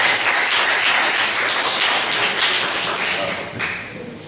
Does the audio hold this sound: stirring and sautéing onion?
no